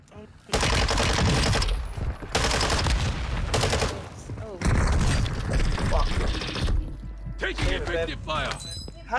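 Gunfire in a shooter video game: dense bursts of rapid automatic fire and heavy shots, loud and near, repeating in several waves across the clip, with a voice briefly heard amid the shooting.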